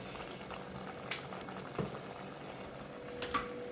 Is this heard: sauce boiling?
yes